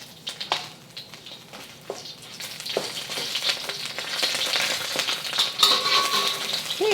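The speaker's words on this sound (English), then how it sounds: "adding another tablespoon of oil. Only because that beef didn't have much fat in there, so add my ginger. Let that cook in there" Ginger and beef frying in a tablespoon of oil, with a sizzle that starts soft and grows into a steady, close crackle, with a few faint utensil taps.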